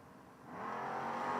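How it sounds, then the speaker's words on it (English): A 1973 Ford Maverick drag car with a 347 cubic inch stroker Ford engine rumbles loudly at a footbrake drag racing event, its engine note building steadily and holding strong without a break. "the 73 Maverick. 347 cubic inches of Stroker Ford motor rolling around in front of him."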